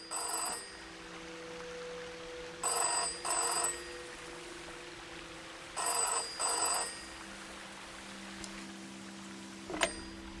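A telephone rings in the game Season: A Letter to the Future, coming in four short bursts, two early and two later, over a quiet ambient backdrop with a faint click near the end.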